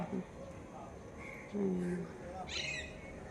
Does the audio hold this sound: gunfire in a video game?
no